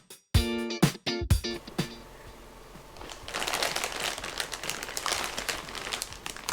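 A plastic bag of RC car chassis parts being torn open, beginning with several sharp rips and snaps, then a steady close crinkling and rustling of plastic, with no talking.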